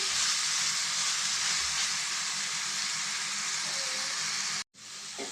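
Bitter gourd pieces frying with ground masala paste sizzle in a steady, loud hiss with faint stirring, broken by a brief silent gap near the end.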